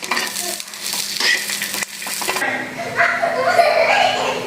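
Peanuts fry in a pan for Khandeshi thecha, a loud sizzle with scraping stirs and clinks of a utensil against the pan, the crackle swelling and easing as they are moved around.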